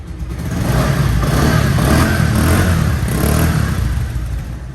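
A second-hand 2024-model motorcycle with about 3,594 km on it runs after starting, a loud, close, steady engine drone that holds smooth and even throughout, with no voices.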